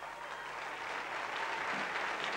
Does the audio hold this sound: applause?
yes